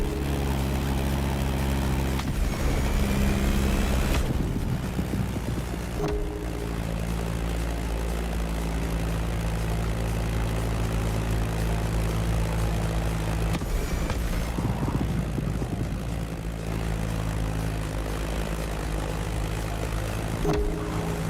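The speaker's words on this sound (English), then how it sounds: "That Beechcraft Stagger Wing is truly a beautiful piece, isn't it?" Propeller engine of a Beechcraft Staggerwing plane in The Crew Motorfest racing game, a steady loud droning hum with a low throbbing tone that shifts slightly in pitch throughout, no talking.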